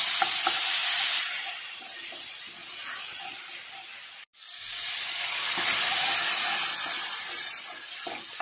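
Dal poured into hot oil with turmeric sizzles and hisses loudly, and a spoon stirs it; the sizzle cuts out for an instant midway, then returns just as strong.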